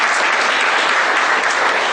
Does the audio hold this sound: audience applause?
yes